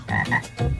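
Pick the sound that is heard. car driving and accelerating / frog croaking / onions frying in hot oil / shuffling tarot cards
frog croaking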